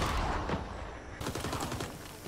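Rapid gunfire from a Vietnam War shooting video game, dense bursts of automatic fire crackling in quick succession at close range, loud and continuous with no talking.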